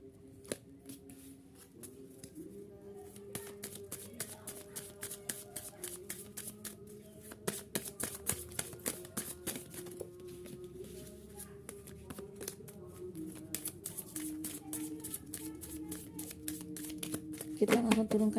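Tarot cards are shuffled by hand for a reading, giving a continuous run of crisp riffling, flicking and card slaps. A soft voice hums or speaks faintly underneath.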